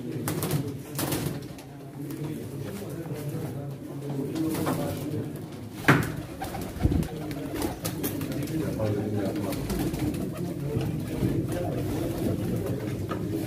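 Pigeons coo softly and repeatedly at a pigeon auction, their low calls running beneath continuous talk from a crowd of people, with a few sharper knocks partway through.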